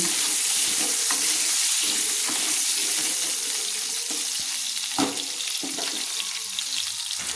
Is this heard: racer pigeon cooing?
no